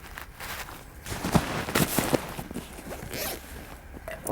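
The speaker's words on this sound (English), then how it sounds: "While I stick this zip away, it's getting on my nerves." A clothing zipper is pulled closed outdoors on a clifftop walk along Beachy Head, Sussex, England, a series of rapid ratcheting rasps over wind and rustle lasting several seconds.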